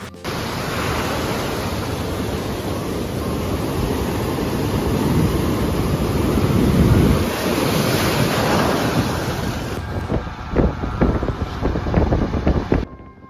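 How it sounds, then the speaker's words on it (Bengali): Sea waves wash and break continuously on a beach at Cox's Bazar, a broad rushing roar with some wind buffeting, ending in a few rougher splashes. "সমুদ্রের যে ঢেউগুলো অনেক বিশাল ছিল"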